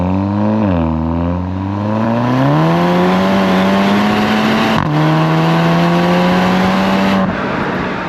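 A Mk7 VW Golf GTi with a resonator delete, OEM limited-slip differential and DSG gearbox revs up hard and loud. Its engine note climbs smoothly, then a quick upshift cuts in and the pitch rises again, with no voices.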